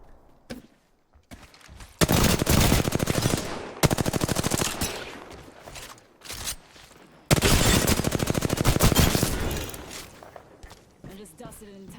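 Bursts of automatic gunfire in the video game Apex Legends, two long sustained volleys of rapid shots with scattered footsteps and quieter gaps between them, loud and close.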